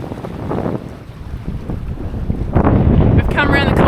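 A sailboat runs fast in strong wind, with heavy wind buffeting the microphone over rushing water along the hull; the gusts swell louder toward the end, close and turbulent.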